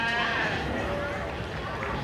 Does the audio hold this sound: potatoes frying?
no